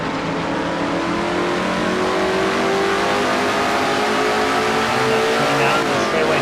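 A race car engine roars in an onboard view at Riverside Raceway in a racing video game, a loud, sustained drone with shifting harmonic tones as revs climb steadily, with no speech over it.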